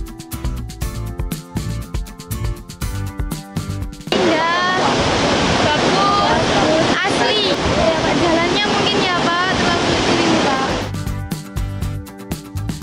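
The Antrokan waterfall in the Hiang mountains roars as a loud, steady wash of water that enters abruptly midway and holds for several seconds, with voices talking before and after and faint chatter within.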